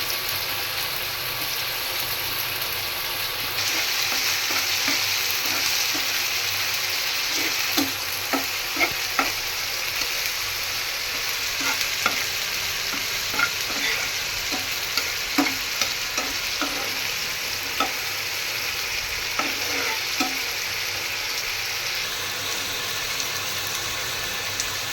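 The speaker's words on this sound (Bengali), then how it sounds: "রসুন কুচি, পেঁয়াজ কুচি দিয়ে ভালোভাবে একটু ভেজে নেব।" Chopped garlic and onion fry in hot oil in a pan with bay leaf and cumin, giving a constant close sizzle punctuated by repeated scraping and stirring clicks from a spatula throughout.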